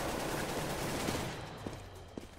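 Gunfire from shotguns in the CS:GO first-person shooter, a dense burst of blasts filling the first half, then a few sharp isolated shots trailing off against quieter game ambience.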